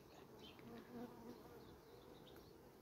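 Honeybees flying around beehives in strong summer heat, a soft continuous buzzing drone with several bees passing close by, fairly quiet and steady with no talking.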